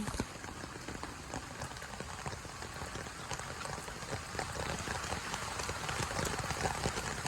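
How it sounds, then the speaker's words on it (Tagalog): Heavy rain pours down steadily, a dense hiss of drops pattering on surfaces close by, growing slightly louder toward the end. "Ah, lakas. Ulan."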